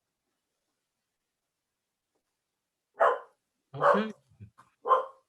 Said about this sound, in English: there's some dogs on the beach here with me